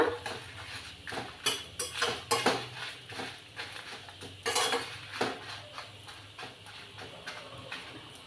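Dal and spices being roasted in a pan for kandi podi, with irregular metal clinks and scrapes of a spoon stirring against the pan, moderately close, no talking.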